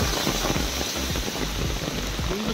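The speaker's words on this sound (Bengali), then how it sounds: "কি জোরে জোরে বৃষ্টি পড়ছে।" Heavy monsoon rain at Arwah Cave in Sohra, Meghalaya, a dense, unbroken hiss of downpour hitting surfaces nearby, loud and steady for the whole stretch, with no voices.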